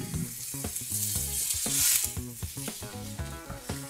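Oyster mushrooms fry in hot olive oil in a pan, giving a steady, close sizzle with rhythmic clinks and scrapes of stirring throughout; no one speaks.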